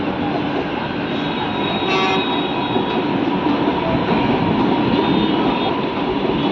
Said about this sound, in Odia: ଏଇଠି ମେଟ୍ରୋ ଗଲା।